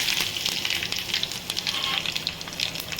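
Curry leaves and mustard seeds crackle in hot oil for a tempering, with bright, dense spattering and popping held close and steady throughout.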